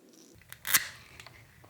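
A brake line is cut once with a short, sharp crunch close by, surrounded by faint handling noises in an otherwise quiet space.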